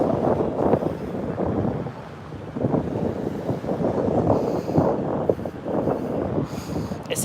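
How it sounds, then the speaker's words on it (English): Wind gusting across a microphone on a sunny street, a steady low rumbling buffet that swells and dips throughout, loud and close, with some faint background noise. "Nice and windy."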